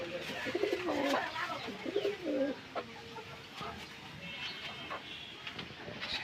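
Pigeons, including racer pigeons kept alongside chickens, coo softly in repeated low phrases, close but faint, with quiet ambient noise between calls.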